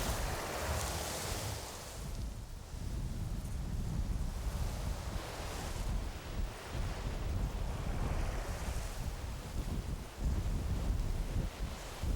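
Strong wind and heavy surf roar continuously around Baekdo, a remote island where high waves break at sea, a loud, rushing wash with gusty buffeting and no voices.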